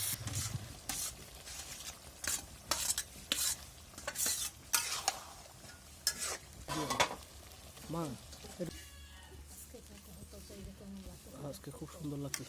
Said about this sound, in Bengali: এই যে ভালোভাবে নেড়ে চেড়ে মাংসগুলোকে কষিয়ে নেব